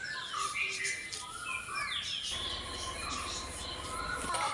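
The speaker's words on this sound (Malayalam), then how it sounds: "ഒന്നാമത് കിളികളുടെ സൗണ്ടൊക്കെ കേൾക്കാറിയപ്പോൾ നമുക്ക് നല്ല രസമാവില്ലേ, ഇഷ്ടാവില്ലേ?" Birds chirp and call in a village on a morning, with several quick, sweeping tweets near and far over a faint insect-like buzz and a low rumble in the second half.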